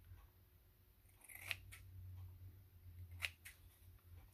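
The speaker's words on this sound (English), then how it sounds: "So I'm just going to use my pinking shears along the edge." Pinking shears cutting along a fabric edge, two distinct crisp snips about two seconds apart, close and quiet over a soft low hum.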